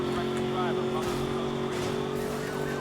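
Ford Mustang engine in Need for Speed: Most Wanted (2012) at about 260 km/h: a steady, high-revving drone with a gear change around midway, heard at close range.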